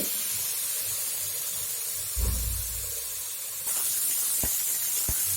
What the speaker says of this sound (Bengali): দেখুন মাছটা আমার ভাজা হচ্ছে।